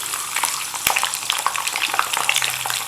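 Spices crackle and sizzle in hot oil, with sharp pops and spits over a steady frying hiss, close by.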